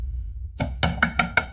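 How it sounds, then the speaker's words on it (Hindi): A door is pounded by hand in a quick run of five loud, heavy knocks close by, after a brief quiet start, with no talking. "इतनी देर से दरवाजा पीट रहे, क्या हुआ?"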